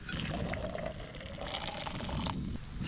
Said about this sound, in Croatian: prokuvana voda ide u plastičnu bocu i potrudit ću se da ne opržim ruku opet